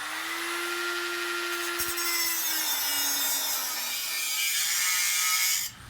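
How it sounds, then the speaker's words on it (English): A Sawzall saws through welds on a hydraulic press frame, a steady, close rasping cut with a constant whine that holds for several seconds and then stops abruptly. "I just used a Sawzall to slice these under welds"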